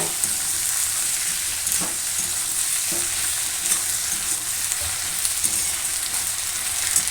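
Ginger paste and cucumber stir-fried in a pan, a loud steady sizzle broken by repeated utensil scrapes and taps as the mixture is turned.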